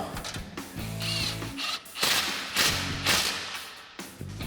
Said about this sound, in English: now we can go ahead and tighten down our clamp